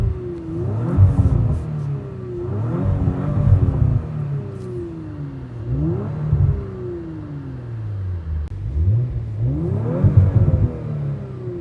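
An Audi RS5 engine and exhaust rev repeatedly in dynamic mode, each rev swelling and falling back in a regular rhythm of about five loud blips over a deep, steady idle rumble.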